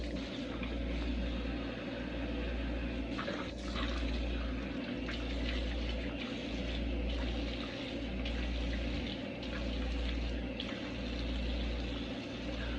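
Warm water runs steadily from a tap while rinsing after a beard shave, a continuous moderate splashing hiss with slight fluctuations, heard alone without talk.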